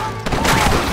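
A short burst of rapid gunfire during the assault on Fort Mercer in the Xbox game Red Dead Redemption, loud and dense cracks overlapping for about a second with no talk.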